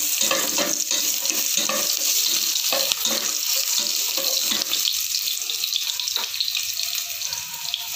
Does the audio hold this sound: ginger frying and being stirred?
yes